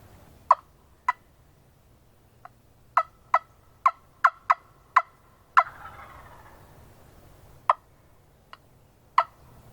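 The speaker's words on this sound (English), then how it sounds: "Well, that's gobbler number 3." Scattered sharp, clicking wild turkey calls ring out across open air during spring turkey season, with a rougher, rolling gobble in the middle that fades into the distance.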